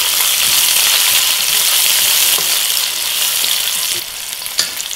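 Onion sautéing in a pan with ginger and green chili for a sooji umpa breakfast gives a loud, steady, close hiss of sizzling oil that dips a little near the end, broken by one brief clink.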